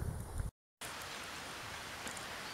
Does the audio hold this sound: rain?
yes